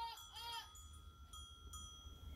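Goats bleating nearby in an open forest pasture, a couple of short wavering calls at the start over a steady outdoor hum, then faint scattered sounds, no talking.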